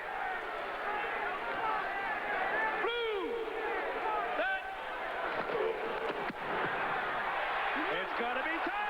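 Football stadium crowd at an XFL game in New York reacting to a missed 49-yard field goal, a broad roaring swell with whistles and shouts, heard under a commentator's voice.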